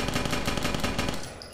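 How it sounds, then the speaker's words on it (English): Rapid automatic assault rifle fire from the Interstellar Marines video game, a dense steady stream of loud shots that cuts off abruptly after about a second and a half. "So that's the submachine gun, and now you have the assault rifle. Sounds way better, honestly."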